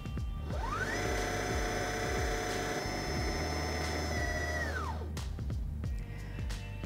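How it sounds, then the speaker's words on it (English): Singer HD6600C sewing machine winding thread onto its bobbin: a steady high motor whine rises quickly, holds for about four seconds, then winds down, followed by a few faint clicks. "step on the foot control to resume winding"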